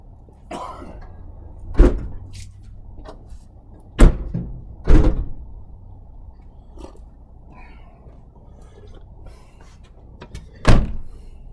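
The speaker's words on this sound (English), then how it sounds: "Let me go shut the back doors." Several heavy thuds of van back doors being shut, spaced apart, each a sharp slam with a short rumble, over faint background hum and no talking.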